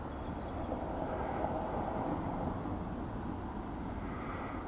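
A drone flies on an automatic return path outdoors on a clear day, giving a steady broadband rushing drone that stays level and moderately loud throughout with no voices.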